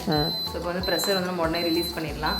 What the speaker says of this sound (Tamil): இப்போ பீப் சவுண்டு வந்துருச்சு.